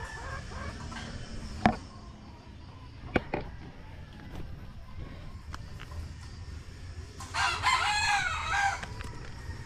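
A rooster crows loudly toward the end over faint background clucking and scattered clicks from an outdoor yard; no one speaks.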